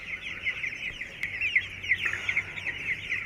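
Broiler chickens around twenty days old crowd a poultry shed on a hot evening, a dense, continuous chorus of high chirping and soft clucking from many birds at once, steady and fairly close, with no talking.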